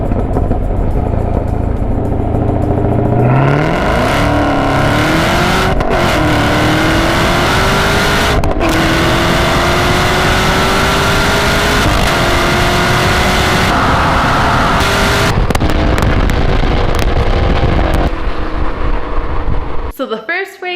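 A 2019 Camaro ZL1 and a 2017 Nissan GT-R roll race, engines roaring loud and close as revs climb through long pulls with shifts, wind buffeting over the sound, and a brief cutoff at the end.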